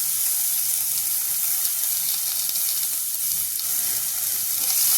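Potatoes go into onions frying in a pan for a spiced potato and eggplant curry, giving a steady, close sizzling hiss throughout with no talking.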